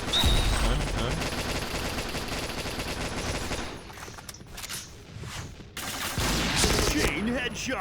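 Rapid automatic fire from HK-416 assault rifles in the shooter game Point Blank comes in dense, loud bursts, drops to a quieter stretch in the middle, then resumes strongly toward the end.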